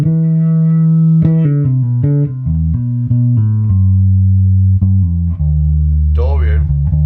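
A guitar plays a phrase in C Ionian and then in C Dorian, a loud, clear run of single notes that steps through the scale at a moderate pace.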